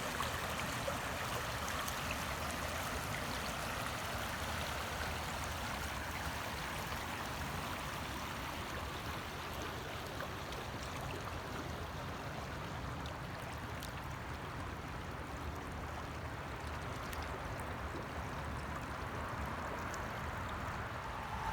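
Broadband rushing of a small creek tributary flowing steadily and close, a continuous wash of water with no voices, holding an even level throughout.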